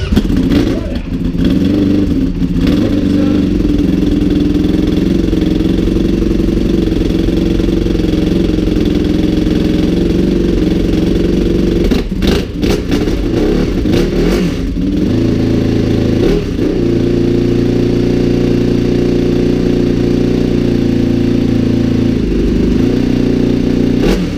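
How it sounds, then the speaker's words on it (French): Ducati 1299 Superleggera motorcycle idling loudly at a bikers' festival in Mettet, its steady engine rumble rising in brief revs, with a crowd and voices faintly around it. "La moto que vous aviez entendue tout à l'heure, c'est celle-ci."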